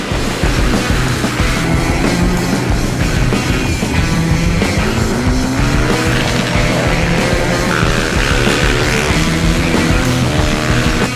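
Supermoto motorcycles roar off the start of a race in a loud, dense pack, engines revving and overlapping continuously, close by and sustained with no break.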